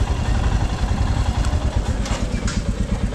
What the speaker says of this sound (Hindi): ये है रॉयल एनफील्ड